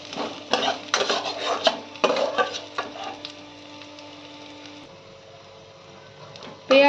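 Onions frying in a pan until reddish, with sizzling under scraping and clattering stirring strokes from a utensil against the pan, then a quieter steady sizzle and a sudden loud clank at the very end.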